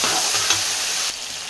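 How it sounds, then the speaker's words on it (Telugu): Tomatoes stirred into frying onions in a pan, a loud close sizzle with a quick stirring scrape, the hiss dropping slightly near the end, no voices. "ఇప్పుడు టమాటా అయితే వేసి కలుపుకుంటున్నాను"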